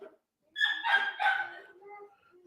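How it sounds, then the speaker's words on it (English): A dog barks and yelps in a short, loud, high-pitched burst of several rapid barks close by, trailing off into softer whimpering. "I'm sorry about the barking."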